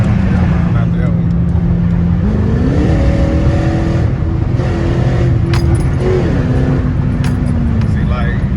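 A Dodge Charger with a straight pipe exhaust rumbles loudly and steadily, its revs climbing around two seconds and easing off later, while a person talks over it close by.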